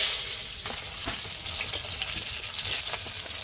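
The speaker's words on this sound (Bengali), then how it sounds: "এই তেলের মধ্যেই পটল কটা ভেজে নিই।" Pieces of pointed gourd (potol) fry in hot oil with a close, dense, continuous sizzle and faint crackles throughout, no voices.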